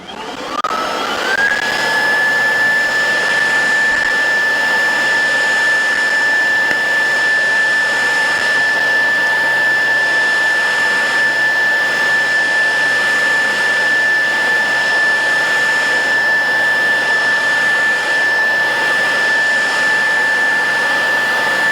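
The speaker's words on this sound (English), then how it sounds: "Now that I made a little mess, let's clean it up with the blower." An Echo eForce DPAS-2600 56V cordless leaf blower spins up and runs steadily on setting 2, a loud continuous whine with a strong high tone held close and alone for over twenty seconds.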